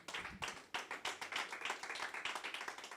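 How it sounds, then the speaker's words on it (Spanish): Church congregation clapping loudly, a close, energetic burst of hand claps that settles into a fairly steady rhythmic pattern. "Dale ese aplauso fuerte al Señor."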